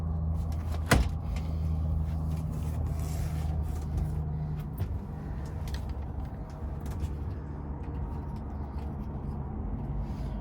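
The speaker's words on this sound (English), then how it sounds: "you have to put the door in the groove at the bottom" A sharp knock and scraping clatter as a pop-up camper door is fitted into its bottom groove, followed by steady low rumbling and small rattles close by, with no talking.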